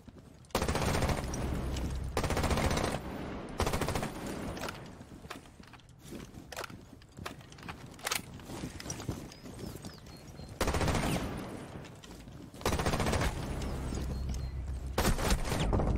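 Loud, sustained bursts of automatic gunfire during a competitive video game match, several long volleys broken by quieter gaps of scattered shots.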